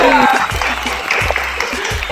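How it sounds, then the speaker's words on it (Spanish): A studio audience at a Spanish-language digital TV talk show gives brief, close clapping to welcome the guests, while a host's voice is heard over it. "Un aplauso para ellos. Un aplauso."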